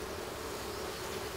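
Honey bees drone steadily around a hive during a honey harvest, a continuous close buzzing hum that holds without a break.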